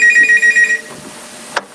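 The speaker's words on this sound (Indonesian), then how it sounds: "Baik, ada yang telepon silakan." A telephone rings with an incoming call during a call-in religious talk show, giving a loud, close electronic trill in rapid pulses. The ring stops and is followed by a brief click.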